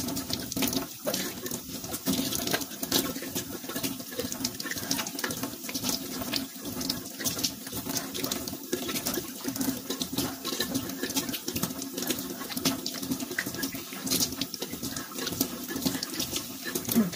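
Tap water runs steadily into a sink during face washing, a loud continuous splashing stream up close with small fluctuations as hands move through the flow, no talking.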